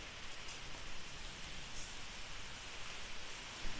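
Rain pours down during a storm in a village in Bogura, a dense, steady hiss of drops on surfaces that continues without a break.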